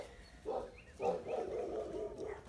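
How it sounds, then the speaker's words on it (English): A neighbor's dog barks and howls in a few drawn-out, moaning calls, moderately distant and muffled, with gaps between them over a low outdoor background. "I think that's the neighbor's dog"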